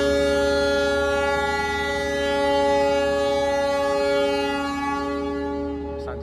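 A Sancaka train departing from the station sounds a long, steady multi-tone horn, loud and close, holding for several seconds before cutting off, with faint station ambience beneath.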